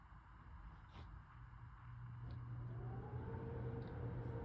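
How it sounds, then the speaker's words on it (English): A home air conditioning unit runs as a steady, low broadband hum with a faint tonal drone, constant throughout and moderately distant, with no talking. "That's my air conditioning, that's not on the video."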